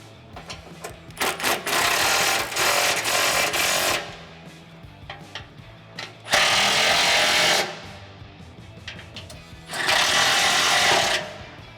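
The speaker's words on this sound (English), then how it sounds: "I'm gonna finish these off with my impact" An impact wrench tightens the center bolts of a DV8 Off-Road FS-18 hammer-forged front bumper on a Jeep Wrangler JK, firing in three loud, close, rattling bursts of a few seconds each, with short quiet gaps between them.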